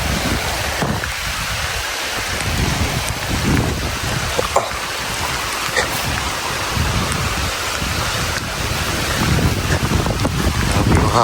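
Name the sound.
strong wind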